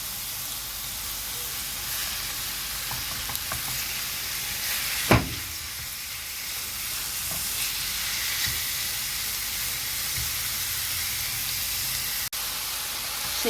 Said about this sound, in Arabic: انزلي عليهم بنص كيلو من اللحمه المفرومه